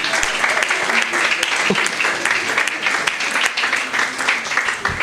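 Congregation applauding at a sermon, loud sustained clapping from a large crowd filling the room, with a preacher's voice talking over it.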